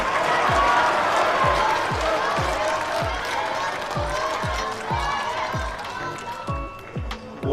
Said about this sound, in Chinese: 请我们的观众朋友送一些掌声给到他们